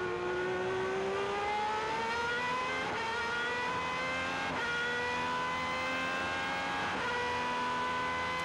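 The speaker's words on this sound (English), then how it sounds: "what a great sound from the engine as he shifts up the gears into the first corner." A Superleague Formula race car engine screams at high revs, pitch climbing then dropping sharply as it shifts up through several gears into the first corner, loud and continuous.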